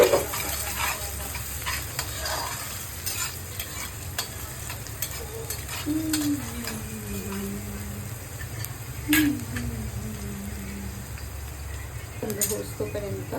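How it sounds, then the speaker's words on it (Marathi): Onion frying in a pan for chicken biryani, with whole spices, green chilli, coriander, garlic and ginger paste, hissing and sizzling steadily with occasional stirring scrapes, while a person talks over it. "चिकन बिर्याणीसाठी कांदा सोनेरी कलर मस्तपर्यंत फ्राय करून घ्यायचा"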